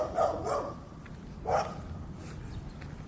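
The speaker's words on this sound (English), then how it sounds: "The dog spooked him." A dog barks twice outdoors near deer, two short sharp barks at moderate distance over a quiet natural background, with no talking.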